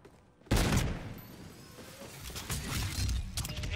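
Grenade blasts in Call of Duty Zombies in Spaceland, a loud burst of explosions with crashing debris, followed by a sustained, rumbling clatter of further detonations and gunfire.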